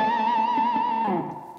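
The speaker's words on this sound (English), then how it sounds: "a lot of people also refer to pinch harmonics as artificial harmonics" A distorted electric guitar rings out with a squealing pinch harmonic, a high sustained tone with gentle vibrato that bends down and fades into a decaying echo tail.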